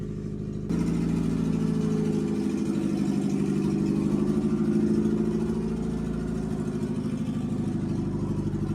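An International Scout engine fires up after a brief moment, then runs with a loud, steady, rumbling idle close by for the rest of the time, with no voices.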